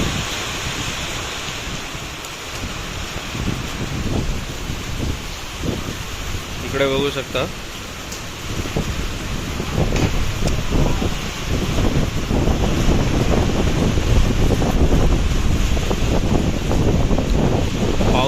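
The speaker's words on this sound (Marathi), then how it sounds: "तुम्हाला व्हिडिओमध्ये वाराचा आवाज येत असेल, त्याच्यावरूनच तुम्ही ओळखू शकाल की पाऊस किती जोरात पडतो आणि वारा किती जोरात." Strong wind and heavy rain during a downpour, a loud continuous roar with buffeting gusts that swell toward the end; someone speaks briefly over it.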